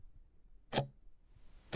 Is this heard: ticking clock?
yes